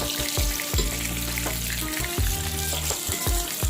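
Food fries in a pan during a dorm-kitchen pre-dawn meal, a loud, close, continuous sizzle broken by repeated scraping and stirring clatters, with nobody speaking.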